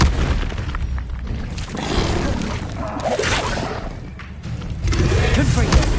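Incendio fire spell cast in the video game Hogwarts Legacy, a series of whooshing fiery bursts and booms layered over a steady battle din, with a voice speaking among the effects.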